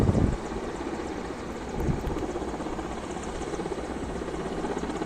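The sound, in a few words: military helicopter landing in cricket stadium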